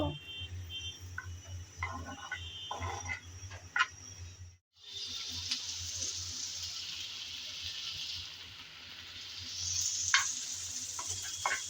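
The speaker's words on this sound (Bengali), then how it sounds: "এখন নেড়ে চেড়ে চিংড়িগুলো ভেজে নেব।" Prawns frying in hot oil in a pan, a steady close sizzle with spatula taps and scrapes as they are stirred, a brief drop to near silence midway before the sizzle returns stronger, no voices.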